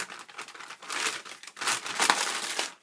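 Baby wipe packet crinkling and rustling up close in several short bursts, fairly quiet, with no talking.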